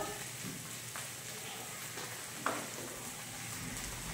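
Masala paste with coriander-cumin powder fries in a pan as a faint, steady sizzle and crackle close by, with one small clink partway through and no voices.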